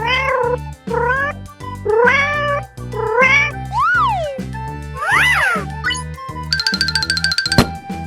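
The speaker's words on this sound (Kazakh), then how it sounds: "мысық" A cat meows loudly four or five times in a row over a steady musical backing, followed by playful sliding whistles and a jingling chime.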